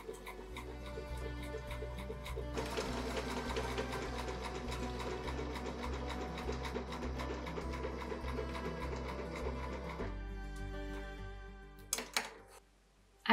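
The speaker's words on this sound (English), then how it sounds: "stitch 3/8 of an inch from the edge of the long side" A sewing machine stitches a gather line along the long edge of pillowcase fabric, running at a steady, even hum-and-clatter for about ten seconds before slowing and stopping with a few clicks.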